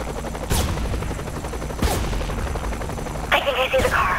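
Helicopter rotor drone in the Saints Row: The Third Remastered video game under repeated sharp gunfire, with three loud bursts and a rattling volley near the end, all close and loud.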